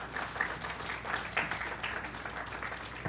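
An audience at a talk on the struggle for housing applauds a guest, giving soft, fairly distant clapping that stays continuous and diffuse across the whole stretch.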